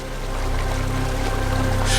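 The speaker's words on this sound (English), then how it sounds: "Suddenly, the water plunges down into a pool and reappears in a lower-lying section of the valley." Water of a small Orkhon River streamlet in Mongolia's Orkhon Valley plunges into a pool, a close, continuous rushing roar that grows slightly louder.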